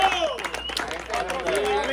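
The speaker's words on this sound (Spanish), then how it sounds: "Un aplauso, por favor" A crowd applauding at the prize-giving of a fishing tournament on the Cinaruco river, a brisk patter of claps mixed with cheering voices and chatter, close and lively.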